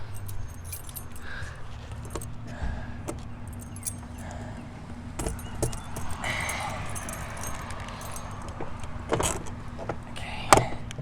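A bunch of keys jangles and rattles in short bursts at the front door of a shop while the lock is worked, close and light over a low background hum.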